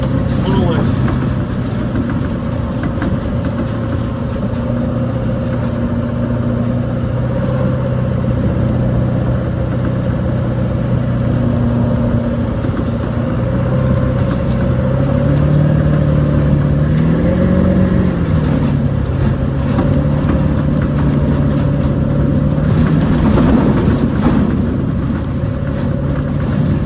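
A Ford E450 4x4 adventure truck with a 7.3L Powerstroke diesel, driving off-road in four-wheel drive, with a steady, loud, low engine drone throughout and small shifts in pitch as it climbs.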